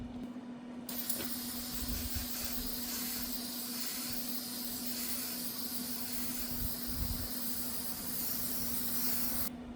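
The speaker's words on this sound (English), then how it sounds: "Actually, what I really need is brake cleaning." An aerosol can of brake cleaner sprays onto truck parts in one long continuous hiss, steady and close, with a faint low hum running underneath.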